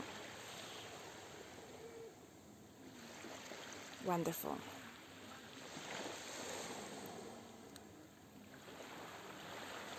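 Faint waves wash in and out in a low, steady rush, with a single short spoken word partway through.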